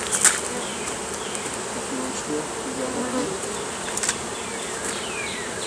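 Honey bees buzz steadily around an open hive as a super is added, a dense close hum with occasional louder passes of single bees.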